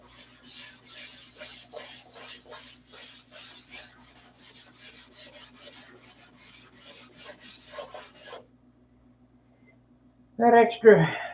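Hand sanding in circles with a cupped hand, likely on aircraft panels on a flight line: a steady run of soft rhythmic rasping strokes for about eight seconds, then a short louder burst of noise.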